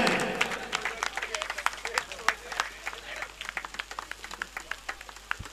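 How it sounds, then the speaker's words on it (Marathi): Scattered applause at an outdoor bullock-cart racing championship prize ceremony, sparse individual claps popping irregularly from a thin crowd, fading toward the end, with a speaker talking over them. "मित्रांनो आता तरी टाळ्या वाजवावं"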